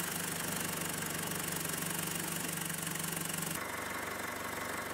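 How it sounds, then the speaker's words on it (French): A car engine idles steadily while warming up to operating temperature before an automatic gearbox and transfer case oil change, an even close mechanical hum with a light knocking pulse, unchanged throughout. "Amener le moteur à sa température de fonctionnement."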